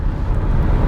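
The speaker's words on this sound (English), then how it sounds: "most of what you hear is wind noise until you really dig into the gas pedal" A steady, loud low roar of wind and road noise from inside a 2024 Lexus NX350 at highway speed, continuous with no voices.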